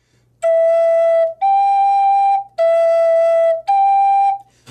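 A native flute alternates between two finger positions in four separate held notes, each breath broken by a brief gap, producing a pure, whistle-like tone close up with no talking.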